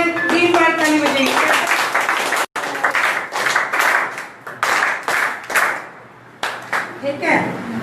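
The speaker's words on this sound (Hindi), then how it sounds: "3 बार ताली बजाइए।" An audience at a spiritual-zone gathering claps in response to a host, a dense burst of applause after a brief voice at the start, breaking into a few rounds of claps with short pauses between them.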